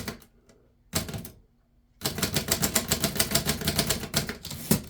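Typing on a 1935 Remington Rand Noiseless Model One typewriter: a few isolated muffled keystrokes, a pause, then a steady rapid run of soft, even key strikes, close and clear with no talk.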